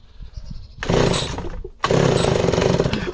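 A chainsaw with its choke off catches and roars briefly, cuts out, then fires again into a loud, sustained close-up run.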